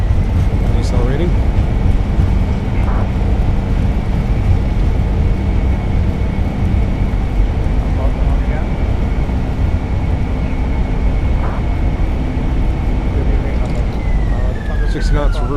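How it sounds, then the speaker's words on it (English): Airbus A320 (Fenix A320) in Microsoft Flight Simulator during landing rollout at Hamburg with thrust reversers deployed, a loud steady engine roar filling the whole stretch with a faint whine and occasional clunks above it. "Okay, nose down gently, reversers are out."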